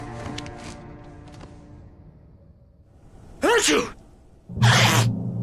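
A single sneeze from a character in the Alan Wake video game, a sharp burst followed a moment later by a second loud breathy burst, set against quiet ambient game sound.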